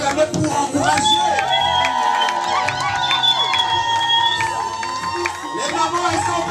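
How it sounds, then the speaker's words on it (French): Guests at a Congolese religious wedding in Dijon cheer loudly and continuously, with high ululating whoops and shouts rising over a dense crowd roar, with some scattered clapping and voices mixed in. "Mais est-ce qu'on peut acclamer pour encourager?"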